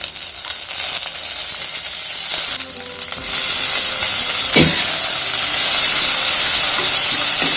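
Pumpkin pieces with curry leaves fry in a pan, a loud hissing sizzle that swells partway through, with a few spoon scrapes and knocks as it is stirred, close and without talk.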